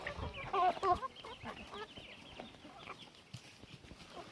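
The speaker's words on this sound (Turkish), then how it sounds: "Bu da mı horoz yoksa?" Chickens cluck and a rooster calls in a busy farmyard, several birds close by with overlapping short calls and scratchy background noise.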